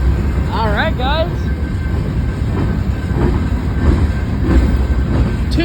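A freight train led by two GE Evolution (Gevo) locomotives passes at Fosterville, Tennessee, a loud close rumble of rolling wagons, with two rising horn-like whistle tones early on and no one speaking.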